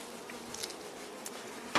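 A steady, low buzzing of many honeybees droning together in a hive recovering from poisoning, close and continuous, with a few faint knocks and scrapes.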